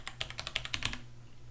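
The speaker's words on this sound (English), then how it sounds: "watch what happens even if I type very rapidly like you would normally do" Rapid keystrokes on a computer keyboard clatter in a quick burst of about a dozen close, crisp clicks, then stop, leaving a quiet room tone.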